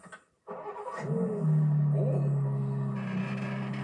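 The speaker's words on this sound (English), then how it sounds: "That was a very interesting start. Has like the metallic sound." A BMW G87 M2 engine cranks and catches with a metallic rattle, then settles into a steady low idle.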